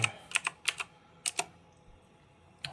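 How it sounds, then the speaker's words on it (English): Someone types on a computer keyboard at a sensor terminal in brief bursts of crisp, close keystrokes, with a short pause and then one final key press. "So now let's type the sensors again."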